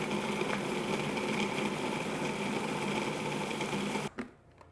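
Food processor blending sliced peaches into plant-based cream, giving a steady loud motor whir that runs for about four seconds and then cuts off abruptly, close with no talk.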